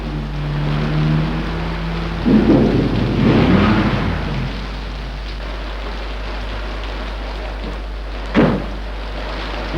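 Heavy rain pours steadily in a Telugu film scene, with deep rolls of thunder swelling near the start and a sharper crack later, all without speech.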